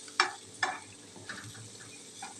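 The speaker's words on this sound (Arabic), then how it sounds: "هنبدا بقى نقوم حاطين الكبده بتاعتنا" Liver is frying in a pan with garlic and onion, giving a quiet steady sizzle with a few sharper stirring clicks near the start, close by and without talk.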